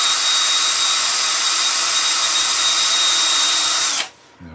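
A power drill bores through the side grain of a small turned wooden Christmas tree decoration with a loud, steady, high whine. The whine cuts off abruptly near the end, leaving near silence.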